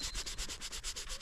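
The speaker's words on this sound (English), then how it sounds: "I'm just sanding" Rhythmic back-and-forth sanding strokes scrape paint off a racing helmet, a steady close rasping repeated about ten times in quick succession with no voices.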